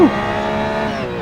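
Brakes lock on a Corvette C8.R race car in Assetto Corsa, a brief tire squeal at the very start followed by a steady, loud engine drone with layered harmonics holding alone for about a second.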